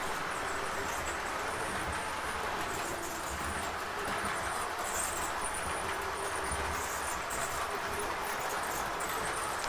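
O-gauge model trains run on a layout track with a block detector, one engine pushing another, giving a steady low rumble and rolling clatter that stays even and fairly quiet throughout.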